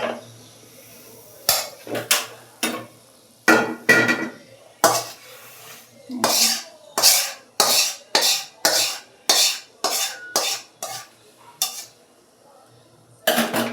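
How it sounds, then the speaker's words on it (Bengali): A wok being washed and scrubbed in a kitchen: a long run of sharp metallic clanks and scraping knocks, close and irregular, each followed by short quiet gaps. "আচ্ছা, কড়াইটা একটু পরিষ্কার করে নেই।"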